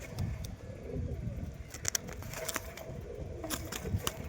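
Domestic pigeons coo softly, with low murmuring calls under faint background noise and a few sharp clicks and rustles. The birds sound close but quiet.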